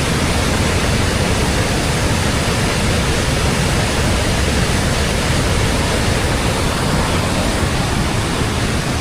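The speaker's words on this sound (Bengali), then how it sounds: "প্রচন্ড গতিতে এখান থেকে পানি আসছে।" Devi's Falls in Pokhara, Nepal, swollen by heavy rain, sends water rushing down in a loud, unbroken roar that fills the whole stretch without pause.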